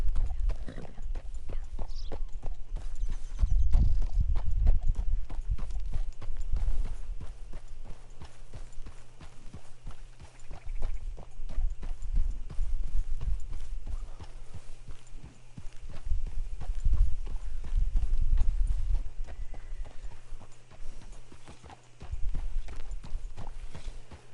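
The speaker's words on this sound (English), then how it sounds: "let's hop on the horse here." Horse hooves beat in the video game Red Dead Redemption 2, a continuous run of clip-clop steps with loud, heavy stretches that ease off and return over a low steady background hum.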